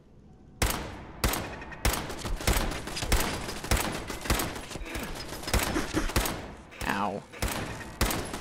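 An automated turret in Fallout 4 fires a rapid series of sharp, loud gunshot bursts at an irregular rhythm, close by, while a voice briefly cries out partway through.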